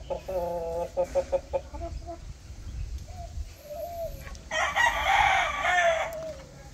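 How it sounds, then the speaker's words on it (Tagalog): Backyard poultry pen with a rooster crowing and hens clucking, a series of close clucks followed by a rooster crow, moderately loud over low background noise. "Isa na lang yung tandang nila."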